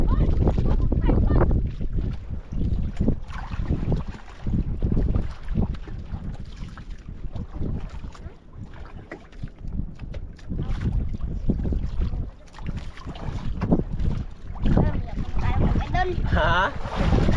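Strong wind buffets the microphone on a small boat at sea, a constant roaring rumble with gusty surges, while voices talk intermittently underneath.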